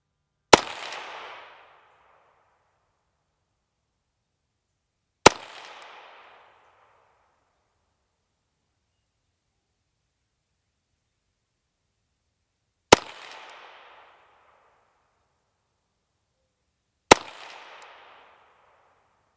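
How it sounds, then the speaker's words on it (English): A Volquartsen VT2 rifle chambered in 17 HMR / 22 Mag fires four sharp, loud single shots at uneven intervals several seconds apart, each a crisp crack with a short ringing decay into silence. "let's see what kind of 5-shot group we can get here"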